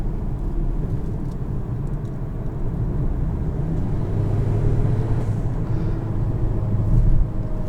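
Turbocharged 2.0-liter engine of a 2022 Volvo XC40 T5 R-Design pulling hard out of a corner, a steady, loud low rumble from inside the cabin that swells slightly near the end, with no talking.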